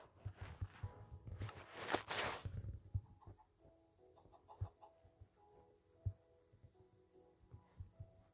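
Chicken clucks and soft footstep thuds from a video game sound as a scattering of short, faint, irregular pops, with a louder burst of noise near the start.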